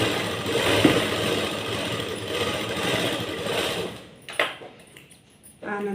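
A sewing machine stitches a blouse band, a steady motor whir for about four seconds that stops, followed by a few short clicks and a brief restart.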